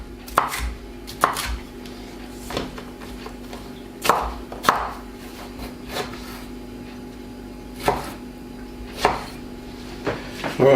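Knife chopping capsicum into small squares on a board while making paella, a run of sharp, irregular thuds spaced about a second apart, close and clear against a faint steady background hum.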